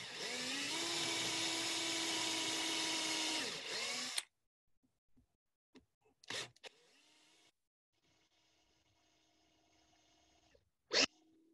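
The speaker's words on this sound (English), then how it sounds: "I like to actually run the drill bit backwards, and that will score the wood around that" A power drill spins a bit in reverse to score wood for a dowel joint in hand joinery, giving a loud, steady whine for about four seconds that then cuts off, followed by quiet with a few scattered knocks and handling noises.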